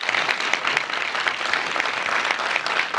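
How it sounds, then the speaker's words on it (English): An audience at a BCNegra crime-fiction festival session claps for author Richard Price, a dense, even burst of applause sustained throughout with sharp individual claps poking through. "Big round of applause for him"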